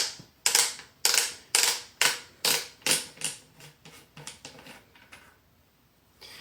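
Cap being unscrewed from a Winchester SXP Defender carbon-forged pump shotgun with an 18-inch barrel: a run of sharp metallic clicks, loud at first, then coming slower and fading away, close up with no voices.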